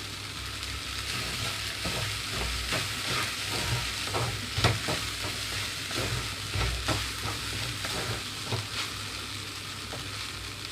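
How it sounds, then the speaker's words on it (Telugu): Tomato fried rice is stirred and tossed in a hot pan, with steady sizzling and a run of scraping, rustling strokes, some louder clatters as the rice is flipped, close up with no talking. "మాత్రమే రైస్ కలుపుకోవాలి టాస్ చేయగలిగితే టాస్ చేసుకోండి"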